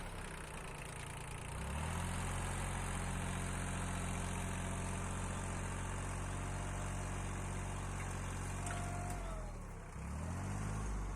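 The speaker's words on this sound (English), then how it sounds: "So turned the tractor." A tractor engine idles and runs continuously with a low, even rumble while clearing land, dipping briefly near the end before resuming.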